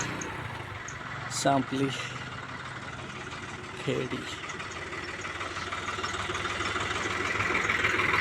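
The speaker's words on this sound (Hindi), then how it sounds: "ये भी ट्रैक्टर हमारे गांव का ही है" A village tractor heading out to the fields on a rural road beside a small canal idles and rumbles steadily in the background, growing slightly louder toward the end, while someone talks over it.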